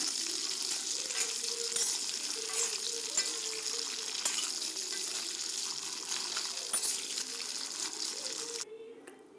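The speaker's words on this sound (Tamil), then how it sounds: "ஒரு 10 நிமிஷம் வரைக்கும் இந்த எண்ணெயிலேயே நல்லா ஃப்ரை பண்ணிக்கலாம்." Indian gooseberries (nellikkai) for pickle fry in oil on high flame, a steady, hissing sizzle with scattered pops and faint stirring, dropping away abruptly at the end.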